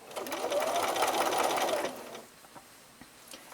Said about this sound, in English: Start stitching and don't forget to back tack, and stitch until you get to the corner.